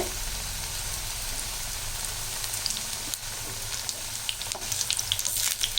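Taro root vada frying in hot oil, a steady, close sizzle and crackle that holds throughout with small bubbling pops rising toward the end, with no talk.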